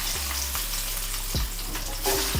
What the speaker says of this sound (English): And now in the same oil, we can fry our hash browns.